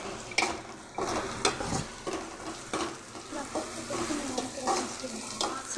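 Tomatoes and dried red chillies fry and get stirred in a pan over a full flame, with steady sizzling broken by repeated scraping strokes, close and fairly loud, and a rooster faintly audible in the background.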